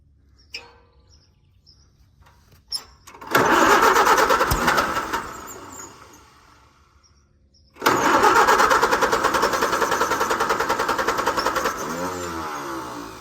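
An old tractor engine cranks with a few clicks, then catches and runs roughly for several seconds, dies, and fires up again into a loud, steady mid-pitched chugging idle close by, with no one speaking.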